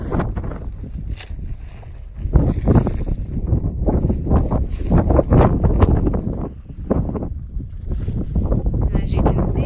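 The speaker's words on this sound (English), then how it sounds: "So, wind is powerful, and Mother Nature has humbled us yet again" Strong wind gusts buffet the microphone on an exposed mountain trail, a loud continuous roar that surges and swells throughout, with a brief lull near the start before heavier blasts.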